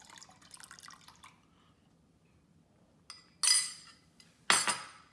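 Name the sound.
citric acid solution poured into milk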